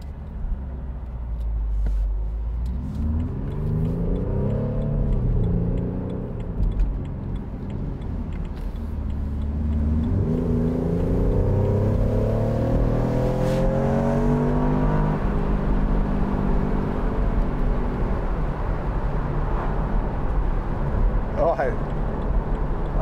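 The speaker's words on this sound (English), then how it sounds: "I might put it in neutral here and give it a few revs" A 2014 BMW Z4 sDrive28i engine revs up and down repeatedly while idling in neutral, rising and falling in pitch, with a voice talking over it at times.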